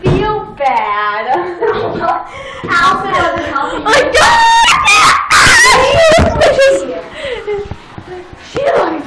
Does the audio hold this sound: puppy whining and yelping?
yes